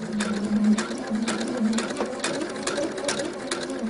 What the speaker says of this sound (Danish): Og jeg stopper igen med nålen nede her, og så syr jeg turen tilbage.